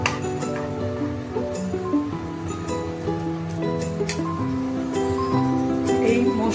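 A ladle stirs masoor dal chochchori in a nonstick pan, constantly moved back and forth as the lentils dry, giving repeated clinks and scraping taps over a faint background hum and pan tone.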